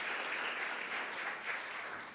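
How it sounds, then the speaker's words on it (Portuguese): A church congregation applauds during a sermon, steady dense clapping from many hands filling the space, faint and distant, with no talk over it. "Você pode aplaudir ao Senhor"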